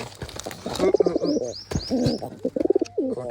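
A pigeon held in the hand, about to be colored, gives a run of soft, throaty coos, close and fairly loud, repeated in short rolling bursts with brief pauses between them.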